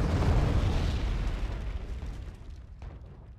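Bomb explosions in the game Wargame: Red Dragon, a heavy rumbling blast that rolls on and slowly fades, loud and deep.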